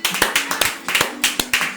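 A television studio audience claps to welcome a guest onto the set, a loud rhythmic burst of sharp, fairly synchronized hand claps at close range.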